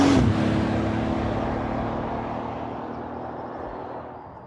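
A car engine designed to run on bioethanol, a plant-made fuel, roars loudly at first and then steadily fades, the engine sound receding over several seconds.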